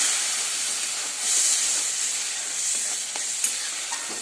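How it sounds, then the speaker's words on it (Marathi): Tomato and coriander masala paste sizzles in oil in a pan for chicken gravy, a loud continuous hiss with soft stirring scrapes and one brief clink. "पेस्ट टाकायची आहे छान असं हलवून घ्यायचं आहे"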